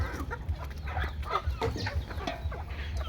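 Native desi chickens on a Bangladeshi farm cluck in short, scattered bursts, several birds close by with no talk over them.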